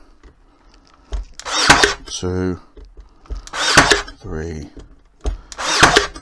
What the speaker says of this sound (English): I can use a nail gun just to bash them together.